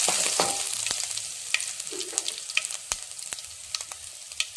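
Crushed ginger and garlic frying in oil in a pan, a close sizzle punctuated by sharp clicks and scrapes of a spoon stirring.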